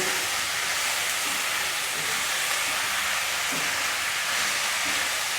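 Jackfruit curry sautéing and being stirred in a pan, a steady loud hiss of frying across the whole stretch, with a few faint scraping stirs underneath and no talking.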